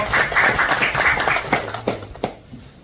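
Participants at a labour union panel discussion clap to open the session, a short round of moderate applause from a modest group that thins out into a few last scattered claps.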